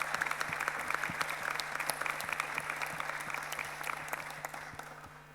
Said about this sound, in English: if you can give a round of applause to Germany and the previous host